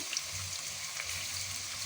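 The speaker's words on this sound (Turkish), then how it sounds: "Piyaz şeklinde doğradığım bir baş soğanımı ilave ediyorum içerisine hafif soteleyeceğim" Steady, soft sizzling of chopped onion sautéing in hot oil, a continuous hiss with faint crackles, close by and alone.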